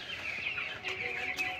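Broiler chickens cluck and chatter continuously, a dense flock murmur with a few brighter calls rising above it, fairly close and steady throughout.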